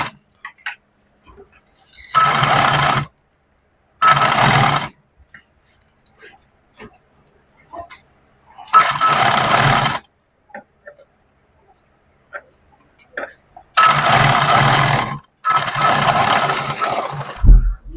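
Sewing machine stitching a round-neck nighty runs in short, close bursts of rapid whirring, five separate runs of a second or two each with quiet gaps and faint clicks between them.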